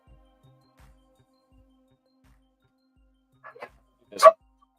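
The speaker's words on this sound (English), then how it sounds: "Oh, dogs are going?" A few short dog barks, faint at first and then one louder bark near the end, with no voices over them.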